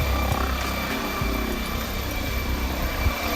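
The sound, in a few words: helicopter flying overhead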